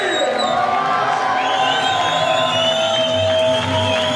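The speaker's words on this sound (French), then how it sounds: "Et la foule est en délire!" A wrestling show crowd cheers wildly, a loud sustained roar of screams and whoops that fills the whole moment, with an announcer's voice calling over it.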